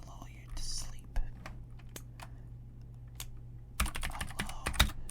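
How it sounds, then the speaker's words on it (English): Computer keyboard typing in a soft-spoken ASMR session: sparse, gentle key clicks over a low steady hum, building into a quicker, denser flurry of close taps near the end, with faint whispery breath. "a little bit of keyboard typing noises to gently lull you to sleep"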